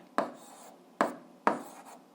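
Writing on a board during an algebra lesson, three short distinct strokes of the marker or chalk, each a quick scratchy tap spaced about a second apart, close and clear with no talk.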